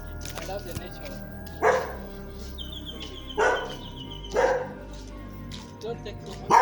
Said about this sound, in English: There are a lot of dogs, right? Yeah, many dogs.